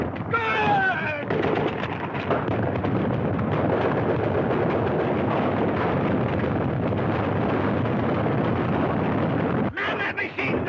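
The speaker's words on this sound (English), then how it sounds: "Man that machine gun!" Sustained battlefield gunfire from a 1931 film battle, dense continuous bursts like machine gun fire with booming blasts, loud and close throughout, with shouting voices briefly at the start and end.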